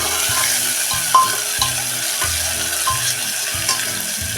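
Onion and tomato sautéing in a pan for a vegetable pea pulao, a steady sizzle broken by repeated spoon scrapes and knocks against the pan, close and fairly loud.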